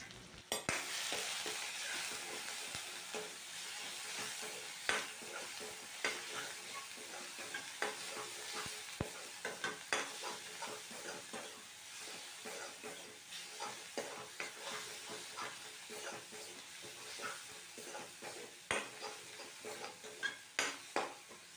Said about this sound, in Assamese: এতিয়া মছলাখিনি দি দিছোঁ আৰু মছলাৰ সৈতে এতিয়া ধুনীয়াকৈ ভাজিব লাগিব